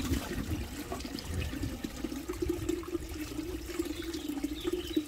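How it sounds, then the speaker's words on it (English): Water drains steadily from the drain outlet of a TITAN wet and dry vacuum tank, a continuous close gurgling pour that runs unbroken throughout with no talking. "And as you can see, it's just all draining out there."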